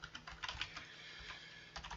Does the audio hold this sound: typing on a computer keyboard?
yes